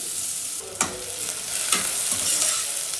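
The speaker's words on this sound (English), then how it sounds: "Slice onion. Let them fry until it changes its color." Sliced onions sizzle and fry in a cooker pot with a steady close hiss, broken by a couple of sharp scraping stirs of a spoon against the metal.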